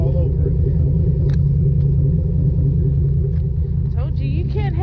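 A Monte Carlo SS with an LS4 5.3-liter V8 and new exhaust tips idles loud and close, a steady heavy rumble throughout, with people talking over it.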